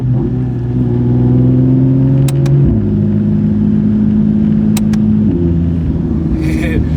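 A Porsche 992 GT3 RS climbs an Alpine mountain road with its engine droning loud and close. Crisp downshifts jump the engine pitch up in two distinct steps.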